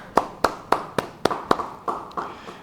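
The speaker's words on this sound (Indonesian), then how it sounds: "Yang percaya, beri tepuk tangan bagi dia." A church congregation at a Bible study claps in time, about nine sharp, evenly spaced claps with a few faint extra taps, moderately near and clear with no talking over them.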